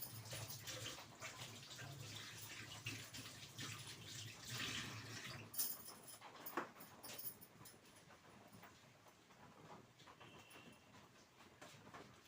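Water runs steadily from a tap as hands are washed in a kitchen sink, a broad continuous splashing that eases slightly partway through, with a few brief clatters on top.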